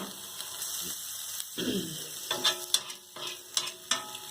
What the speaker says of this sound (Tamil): ஏற்கனவே விட்ட அந்த பட்டரை அந்த தவாவில் இருந்ததுலேயே ஃப்ரை பண்ணுறேன்.